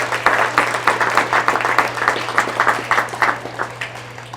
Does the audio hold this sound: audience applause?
yes